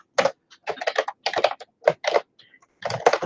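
Keys clatter on a computer keyboard in short, uneven bursts of close, crisp taps separated by brief pauses while feedback is typed into an online course discussion; no voices are heard.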